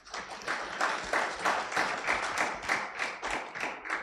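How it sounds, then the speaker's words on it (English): Moderate rhythmic clapping from a conference audience at a manufacturing event, rising in regular pulses and fairly quiet, with no talk. "I thought we would clap for that."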